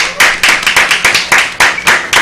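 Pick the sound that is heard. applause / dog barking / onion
applause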